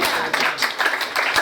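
A church congregation claps during an offering service, a brisk run of overlapping hand claps at close to moderate distance, fairly loud and continuous.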